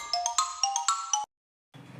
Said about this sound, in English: X for xylophone. Phone with sticks. The notes are short and quick.